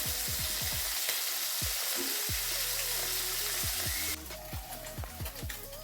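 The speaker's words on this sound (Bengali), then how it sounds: "তো মাছগুলো হালকা ভেজে নামিয়ে নেব" Salted, turmeric-rubbed khalshe fish fry lightly in a wok, a steady close sizzle broken by repeated low knocks and scrapes of a spatula, with the hiss shifting character near the end.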